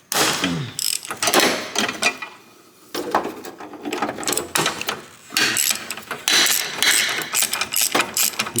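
Ratchet wrench clicking in quick bursts with short pauses as a bolt is loosened between the support and steering rack of a Volvo XC, metallic clatter close up with no talk.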